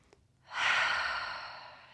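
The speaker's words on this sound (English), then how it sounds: "taking a few deep breaths through the nose and perhaps exhaling through the mouth" A single deep breath: a faint sniff, then a long, breathy exhale through the mouth that swells quickly and fades slowly, close and quiet, during a calm yoga session.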